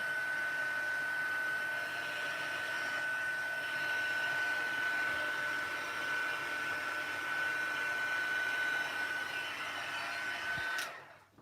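A hair dryer blows steadily and loudly on stamped paper poinsettia petals for about eleven seconds, a constant whooshing roar with a faint whine, then it cuts off abruptly at the end.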